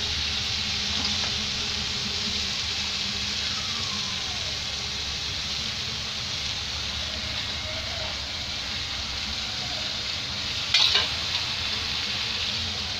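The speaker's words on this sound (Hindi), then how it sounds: "और इसे हम मसाला भूनने तक या टमाटर के गलने तक भूनेंगे" Tomatoes and spices frying in a pan for rohu fish curry, with cumin, garlic and mustard in the oil: a steady, loud sizzle throughout with a few brief clinks of a spoon near the end.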